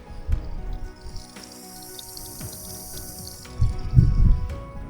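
Water splashes from an outdoor tap at a mountain house on a Swiss hiking trail. The trickling and dripping are close and steady, with louder gushes near the start and the end.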